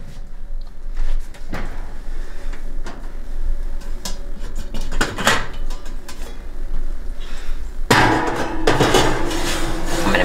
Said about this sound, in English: Now, I'm gonna put this in, put the lid on.